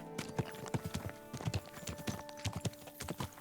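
Horse hooves clip-clop in the video game Kingdom Come: Deliverance II, a quick steady rhythm of hollow knocks on the ground, close and clear over a faint low hum with no voices.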